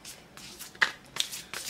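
Oracle cards shuffled inside a cloth bag give a few soft, close rustling bursts, separated by short pauses.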